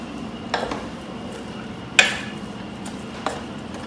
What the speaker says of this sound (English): I want to just kind of give this meat a little bit of a stir.